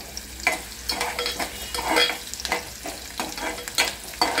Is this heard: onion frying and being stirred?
yes